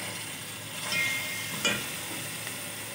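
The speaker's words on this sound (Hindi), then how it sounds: "अब इसमें 2 टेबलस्पून भर के लहसुन अदरक का पेस्ट जाएगा। लाइट ब्राउन करेंगे इसको।" Garlic ginger paste frying in hot ghee, giving a steady close sizzle throughout with faint stirring scrapes and no talk.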